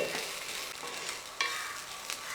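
A spoon stirs a cardamom powder mixture in a pan while making elanchi, giving soft, continuous scraping and light sizzling over a couple of seconds, with a sharper scrape near the middle.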